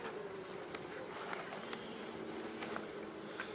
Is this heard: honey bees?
yes